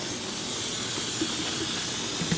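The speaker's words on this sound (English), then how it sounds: "I usually put some coconut oil spray just so the rice doesn't stick together" Coconut oil cooking spray hisses from a can onto rice in a kitchen, a steady close spray lasting a couple of seconds with no talk over it.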